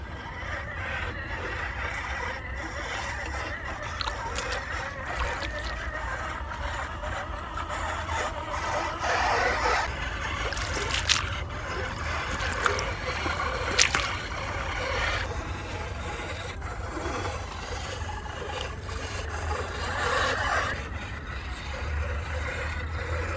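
A Carisma SCA1E RC crawler with a Killerbody Land Rover Defender D90 Camel Trophy body drives through water in a bog, giving a steady low motor whir with splashing, scraping and rubbing noises from the body on the rear arch, close and continuous.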